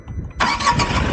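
A Tata Punch facelift CNG base model's engine cranks and catches, jumping abruptly into a loud, steady running roar after a brief quiet moment.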